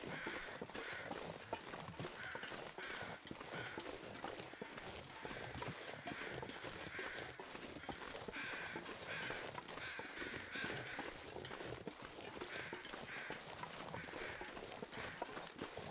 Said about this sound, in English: I hear crows, but I don't see the body.